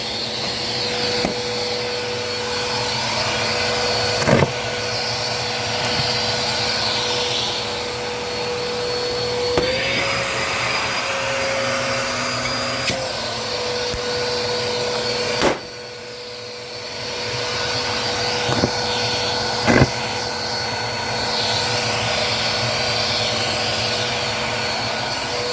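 A new Bissell vacuum cleaner runs in a loud, steady whine while it vacuums up balloons, its pitch shifting a few times, with sharp pops and clunks scattered through.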